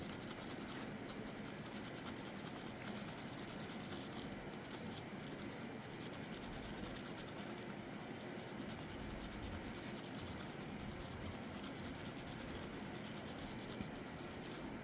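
Bristle brush scrubbing carbon off HK VP9SK pistol parts during cleaning, a quiet continuous scratchy rubbing that holds steady throughout, no talking.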